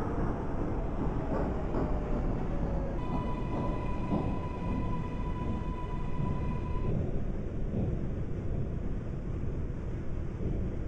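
Queensbound F local train on the New York City subway, simulated in openBVE, rumbles continuously from start to end, with a steady tonal whine rising over the running noise partway through.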